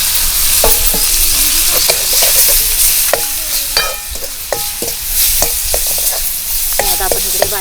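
Grape chutney with roasted chili powder, sugar and salt is stirred in a hot pan, a loud, close sizzle broken by frequent spoon clinks and scrapes against the metal, with no speech.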